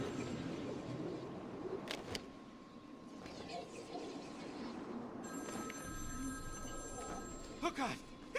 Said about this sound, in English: There's a phone ringing somewhere.